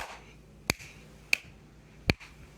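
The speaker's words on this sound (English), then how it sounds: "Now clap your hands once." Three sharp hand claps ring out close by, evenly spaced about two-thirds of a second apart, with the last one slightly fuller and no talking between them.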